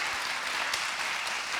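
Audience applause after a talk on agroecology, a dense, steady patter of clapping hands sustained evenly throughout the short span.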